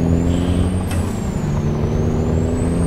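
Truck engine brake in American Truck Simulator, a loud sustained low engine drone with a steady whine layered on top, heard alone without talk.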